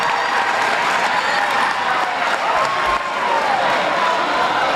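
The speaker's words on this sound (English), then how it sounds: "And this crowd is just crazy." Crowd at a men's basketball game roaring and applauding, a dense continuous wall of cheering and clapping that stays loud for the whole stretch.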